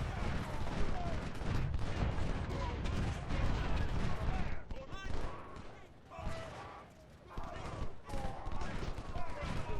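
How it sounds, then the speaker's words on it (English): Artillery and musket fire in the Civil War strategy game Ultimate General: Civil War, a dense, continuous rumble of booming cannon shots and crackling volleys, loud throughout with a short lull midway. "His artillery takes a shot."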